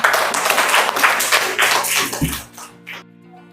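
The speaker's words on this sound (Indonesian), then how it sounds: "Tepuk tangan." A classroom group claps together in a brisk burst of applause lasting a couple of seconds, then quickly dies away into quiet.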